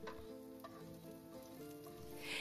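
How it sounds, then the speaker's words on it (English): Green onions sizzle quietly in hot oil, a soft steady crackle with faint pops, no voices present. "Let the green onion sizzle in the oil briefly to release its flavor"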